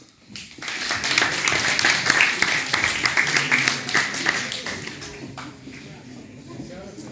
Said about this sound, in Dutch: Geef ze nou een applaus.